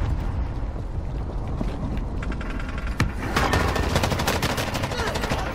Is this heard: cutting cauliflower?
no